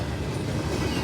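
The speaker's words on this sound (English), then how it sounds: "awesome train all the way" A CSX freight train with an SD70M locomotive rolling past a railfan spot in Muncie, Indiana, a close, dense, steady rumble and clatter of rail cars filling the moment, with no talk.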